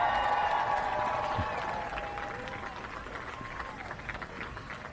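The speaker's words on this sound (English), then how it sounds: "Lots of applause on the ground here" Applause breaks out on the ground at Virgin mission control as Richard Branson's crew crosses into space. Scattered claps and cheers sound at moderate distance beneath a voice, tapering slightly as they go on.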